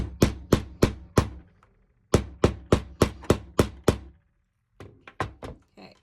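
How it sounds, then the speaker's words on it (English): Two bursts of sharp hammer blows setting a snap stud into fabric, four then five evenly spaced strikes, followed by a few softer taps; close and loud with no talking. "and then I hammer it in"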